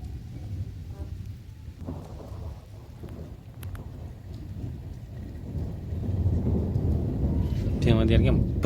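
Thunder rumbles through a heavy village rainstorm, low booming rolls swelling louder toward the end over the constant hiss of rain, with brief bits of voice in the background.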